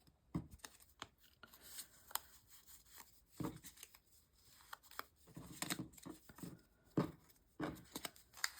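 Playing cards shuffled back into a deck, giving quiet, irregular riffling and rubbing bursts close by with short pauses between them.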